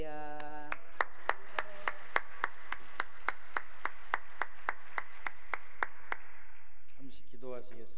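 A congregation at a fasting prayer retreat claps in unison to welcome a pastor, about twenty sharp, evenly spaced claps. Voices talk briefly before and after the clapping.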